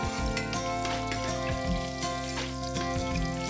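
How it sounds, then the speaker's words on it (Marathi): Slit green chillies and caraway seeds fry in hot oil for chicken biryani in a pressure cooker, a continuous close sizzle and crackle with bursts of spattering, while low background music plays underneath. "आणि आता त्यात मी 5 हिरव्या मिरच्या उभ्या चिरलेल्या घालून 2 मिनटं मी ते परतून घेणार आहे."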